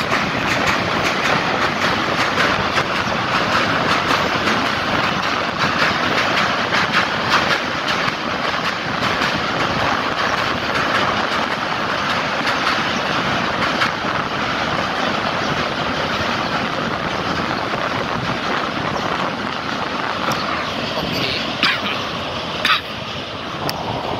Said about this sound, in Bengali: ট্রেন যাচ্ছে, কথা বললে আপনারা বুঝবেন না